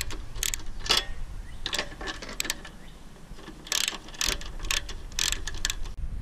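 Two 3/8-inch carburetor bolts being loosened on a Toro Personal Pace 20333 mower, heard as bursts of close ratchet clicking with short pauses between strokes.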